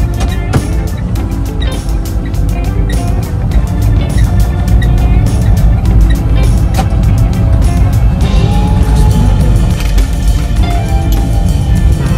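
A Citroën Ami electric car driving through Riga, with a loud steady road rumble and cabin noise throughout and the ticking of an indicator, heard from inside the car.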